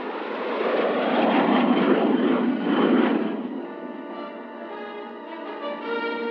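Jet aircraft passing overhead, a broad roaring rush that builds and holds for a few seconds, then thins into a fainter, steadier engine whine as it recedes.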